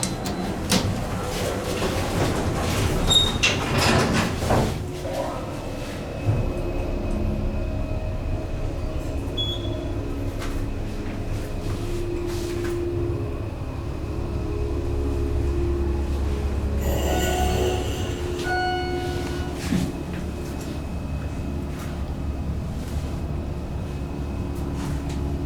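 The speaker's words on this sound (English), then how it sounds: "Now let's be quiet, listen to the motor" Steady low hum of an elevator hoist motor running at the West Portal elevator in Cityplace Uptown, a continuous drone with faint mechanical whine, a brief louder clatter near the middle, no talking.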